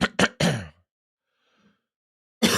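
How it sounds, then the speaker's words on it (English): A man clears his throat and coughs in a few sharp, close bursts, then falls quiet before another burst at the end. "Sorry, I keep coughing. I got a little tickle in my throat after my lunch."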